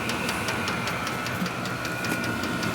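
A Vevor diesel heater fires up and runs steadily, a constant mechanical whirring and ticking drone with a faint rhythmic pulse, close and even in level throughout.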